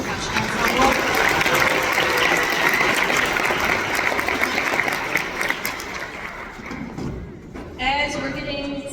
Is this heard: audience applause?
yes